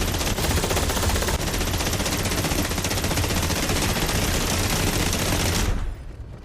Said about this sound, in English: The actual controls we'll use to fire the 131 machine gun, fire machine guns.